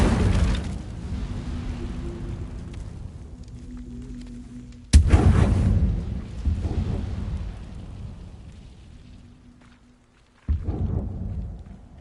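Incendio fire spell cast in Hogwarts Legacy, a loud crackling burst that swells and fades, struck again by a sharp blast midway and another abrupt burst near the end, with no talking.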